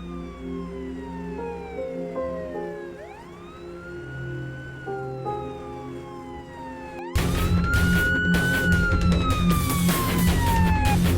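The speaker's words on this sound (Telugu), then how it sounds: "మీరు తొందరగా అంబులెన్స్ తీసుకుని వెళ్ళండి" A wailing ambulance siren sweeps up and down in a Telugu film scene, held steady under a layer of tones before jumping louder and harsher midway with extra clatter.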